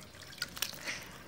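Water dripping from a freshly watered potted plant, a few faint, close drops and trickles over a short moment with no voices.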